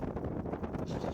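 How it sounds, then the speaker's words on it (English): Gusty coastal wind buffets the microphone, a loud continuous low rumble that swells and dips throughout. "Very windy, very blustery, so I apologise for the audio if it's not very good."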